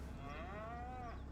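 A single drawn-out cow moo from livestock in the farming game Farming Simulator 25, steady and fairly close, with no talk over it.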